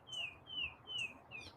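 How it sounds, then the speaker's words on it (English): Several loud, bright bird chirps sound close by outdoors in the morning near a donut shop, coming as a steady run of about four short calls with no talk. "Man, the birds are loud."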